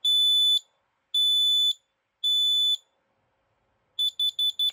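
A smoke alarm made in 2000, tested on a demo board, gives three long piercing beeps followed by a quick run of shorter beeps, loud and close with silence between.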